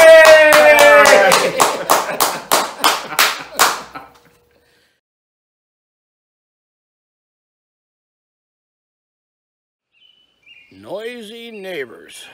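Eight or so sharp, rhythmic claps ring out loud and close over a tonal backing for about four seconds, followed by silence and then a voice talking near the end.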